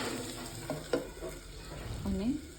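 Onions frying in a pan while a pot is stirred, a steady soft sizzle with a few brief scraping strokes and a short louder clatter near the end.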